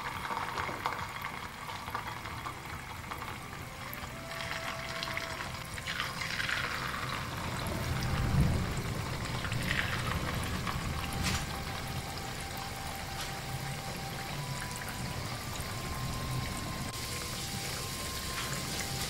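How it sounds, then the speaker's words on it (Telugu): Jaggery rava appalu frying in hot oil, a steady dense sizzle and crackle that holds through the whole stretch, with a brief louder bubbling burst partway as more pieces go in. "ఆయిల్ వేడయ్యాక ఒక్కొక్కటి తీసుకుని నూనెలో వేసేసేసుకుని వేయించేసుకుందాం"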